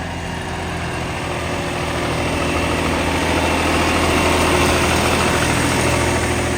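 A tractor's steady, rumbling engine runs continuously at idle, loud and close, during wheat sowing, with a low droning tone that swells slightly and no voices.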